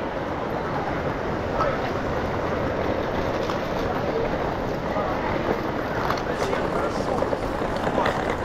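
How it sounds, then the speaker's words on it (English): Busy Paddington Station in London, with a steady, dense wash of crowd bustle, footsteps and station noise all through, and indistinct voices talking in the background. "approaching the entrance to Paddington Station. This is always a busy place."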